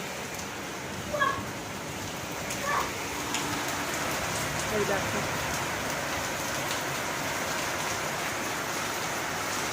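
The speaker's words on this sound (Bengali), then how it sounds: "বৃষ্টির আওয়াজ শুনতে পাচ্ছ তোমরা" Steady rain hisses all around while a voice speaks briefly near the start.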